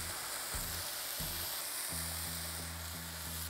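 Chopped onion sizzles steadily in a little hot oil in a pan, a continuous close frying hiss with a faint low tonal hum in the background.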